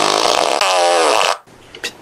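A prank fart device lets out a loud, buzzy, drawn-out raspberry about a second and a half long, its pitch wobbling, then it cuts off into near silence with a faint click.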